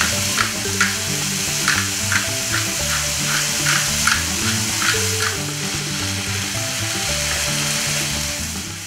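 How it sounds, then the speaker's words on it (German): Diced bacon and onions frying in a pan for a quiche Lorraine, giving a steady, fairly loud sizzle with faint crackles and occasional stirring scrapes throughout, with no talking. "Und die werden auch kurz angebraten bzw. auch mit angeschwitzt."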